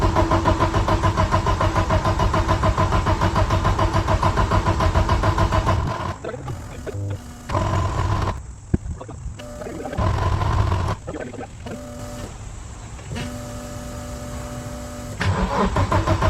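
A 1991 Audi 90 Quattro S2 with a big turbo engine cranks and catches, running loud and close, then stumbles and cuts out several times before restarting into a steady idle.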